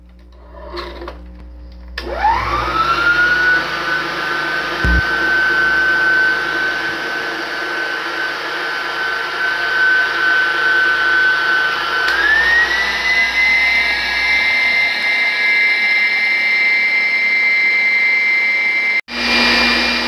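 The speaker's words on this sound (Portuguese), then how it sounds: "As claras eu vou bater em neve, que é para usar no final." Electric mixer beating egg whites to stiff peaks for a cassava cake, a steady loud whirring motor that runs continuously, rising in pitch partway through as the speed is increased, then cuts off near the end.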